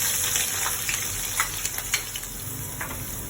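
Onions dropped into hot oil with spices sizzle steadily, a close, continuous frying hiss with a few small crackles and pops.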